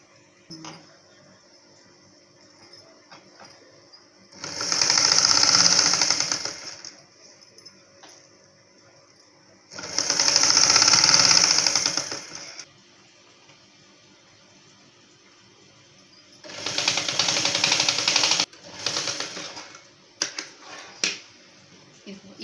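Sewing machine stitching around the armhole of a dress coat in three separate loud bursts of rapid running, with quiet pauses of handling between them.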